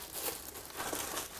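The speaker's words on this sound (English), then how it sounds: "Too much of plastic packaging." Plastic packaging around a Billion 750W mixer grinder crinkles and rustles in soft, uneven bursts close by, fairly quiet, with no talking.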